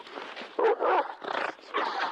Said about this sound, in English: an angry dog barked on the other line